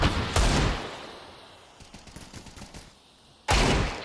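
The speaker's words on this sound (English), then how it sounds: "nice shot from Monacy. That'll sit him down" Gunfire in Counter-Strike on the Vertigo map during a pro esports match: two loud, sharp bursts, one near the start and one near the end, with quieter in-game noise between them.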